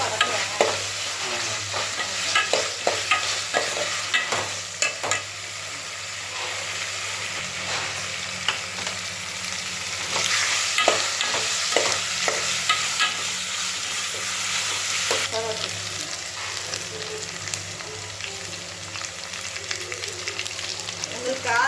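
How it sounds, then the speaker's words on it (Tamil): Mutton pieces frying in hot oil in a home kitchen for mutton kulambu, a continuous sizzle broken by repeated scraping stirs of a ladle in the pan, fairly close and steady throughout. "நான் இப்போ எண்ணெயில் தானே வதக்குறேன்."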